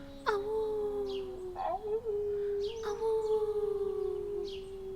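A wolf's long drawn-out howl, voiced in a sleep story, rises and holds steady over several seconds with breaks between calls. It sounds like a human voice imitating the howl rather than a real animal.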